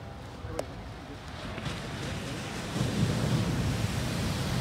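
Ocean waves breaking at a local bodyboarding spot, a steady broad wash of surf with wind rumble that grows heavier toward the end, recorded close by with no talk.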